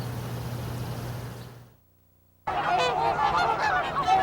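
Trumpeter swans on the upper Mississippi River in Minnesota call in loud, close, overlapping honks after a brief near-silent gap, with a steady low hum beneath at the start.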